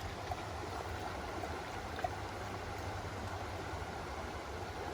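The Dungeness River running low at a channel split on the way to wetlands, a steady soft wash of flowing water with low rumble, continuous and fairly faint throughout.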